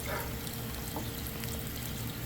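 Water pours steadily into a bowl, a continuous close splashing trickle with no talking.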